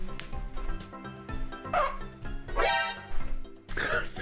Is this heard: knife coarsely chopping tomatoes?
no